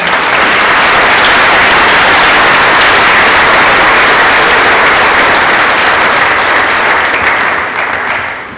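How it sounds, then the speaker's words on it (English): A packed school auditorium bursts into loud, sustained applause for honorees at a high school awards evening, dense clapping holding steady for about eight seconds before easing slightly at the end. "Would you please give them a round of applause?"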